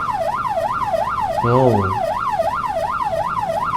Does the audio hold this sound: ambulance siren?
yes